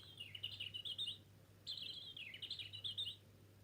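Small bird chirping in two short bursts of rapid high twittering, faint and fairly close, over a low steady hum with no talk.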